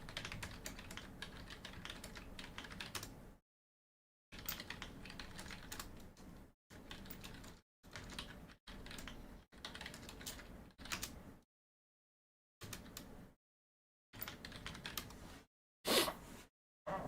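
Rapid clattering keystrokes on a computer keyboard during an online strategy-game tournament, loud and close, in several bursts separated by short silences, with no voices.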